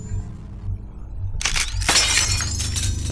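Glass shattering in the horror video game Cry of Fear: a sudden loud crash with a bright spray of breaking shards, followed by a second impact and lingering tinkling debris over a low ambient drone.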